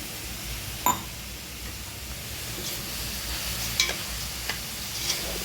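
Carrot halwa with sugar stirred in a pan, a continuous soft sizzle and hiss with a few sharp ticks of a spoon against the metal, close and without voices.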